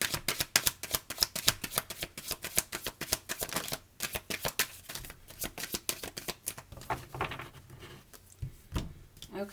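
Cards riffle and snap in rapid bursts, a crisp flurry of shuffling that repeats several times, close and fairly loud.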